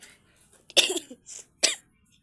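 A person coughs a few times, two sharp close bursts with a small throaty sound between, in an otherwise quiet room.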